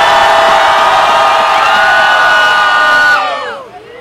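A crowd roars and cheers loudly at a rap battle final, a dense sustained wall of shouting and whooping that breaks off and fades after about three seconds.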